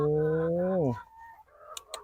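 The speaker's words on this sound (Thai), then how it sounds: "อันนี้ก็เป็นไก่ ไก่ไข่นะครับ" A laying hen in a pen on a mixed farm lets out one loud, drawn-out call that drops in pitch, followed by quieter scattered clucks and pen noise.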